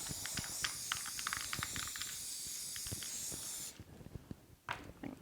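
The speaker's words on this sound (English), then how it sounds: "I tend to have better luck with Loctite. So I'll shake it up." Loctite spray adhesive is sprayed onto cardboard in a steady faint hiss lasting a few seconds, then stops, leaving soft handling clicks and taps nearby.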